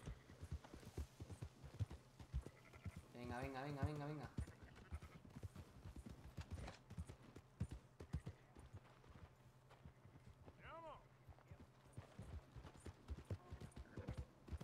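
A horse gallops in Red Dead Redemption 2, its hooves drumming in a quick steady rhythm, with a loud whinny partway through and someone talking now and then.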